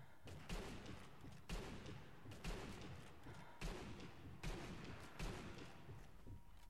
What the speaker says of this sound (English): If I shoot all the bottles.